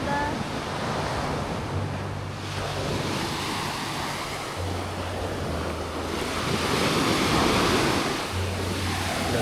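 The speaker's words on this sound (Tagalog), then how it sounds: "Lakas ng waves." Strong ocean waves break on Buktot Beach in Oriental Mindoro, a loud, continuous surf roar with wind buffeting the microphone and periodic swells of crashing water.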